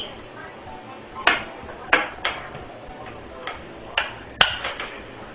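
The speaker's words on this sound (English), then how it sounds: "First, we take the bottom plate and our bolts. Stick the bolts through the holes." Bolts are pushed through holes in a metal bottom plate, giving scattered light metallic clicks and pings, some sharper than others, close by and irregularly spaced over low background noise.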